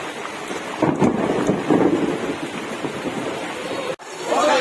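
Rain falls steadily in a broad hiss while thunder rumbles low, with a brief dropout near the end before the downpour resumes.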